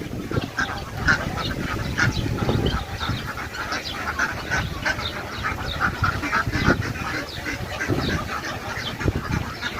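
A flock of ducks on a duck farm quacking constantly and loudly, overlapping calls in a dense, restless chorus with scuffling nearby as ducks are caught.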